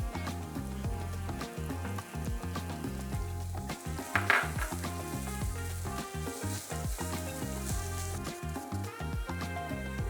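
Scallions hitting hot vegetable oil with frying ginger set off a loud, steady sizzle and crackle that holds throughout, with a brief surge as they go in and some stirring.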